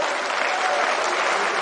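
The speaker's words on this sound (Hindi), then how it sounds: "जरा तालियां बजाकर स्वागत करें।" An audience claps in welcome at a public event in Indore, a thick continuous patter of many hands heard steadily throughout this short stretch.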